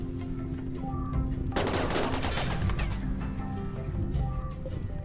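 Rapid gunfire aimed at turrets in the video game RimWorld, a dense crackling burst of shots in the middle under a steady background of game sound, with no voices.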